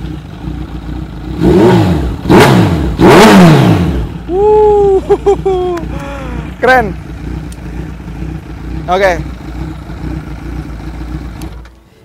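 A Kawasaki Z900 with an Austin Racing aftermarket exhaust, about 10,000 km on it, is blipped in three or four sharp, loud revs that rise and fall close by. Quieter idling and shorter revs follow, with someone briefly talking.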